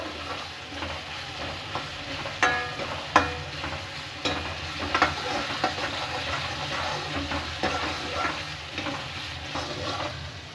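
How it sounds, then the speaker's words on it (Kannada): Onion and tomato frying with turmeric in a pan for village-style egg balls, with a steady sizzle and clinks and scrapes of a spoon stirring at irregular moments, close and moderately loud, no talking. "ಇದನ್ನು ಕ್ಲೀನಾಗಿ ಮಿಕ್ಸ್ ಮಾಡ್ತಾ ಫ್ರೈ ಮಾಡ್ಕೊಳ್ಳೋಣ."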